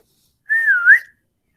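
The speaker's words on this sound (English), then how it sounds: "that's like a bird whistle. That's really impressive." A child whistles a birdlike call, one sliding note that dips and then rises sharply at the end, close and clear in a quiet room.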